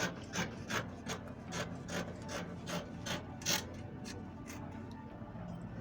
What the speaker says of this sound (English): I'm cutting the back armhole.